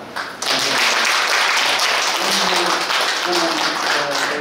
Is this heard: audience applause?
yes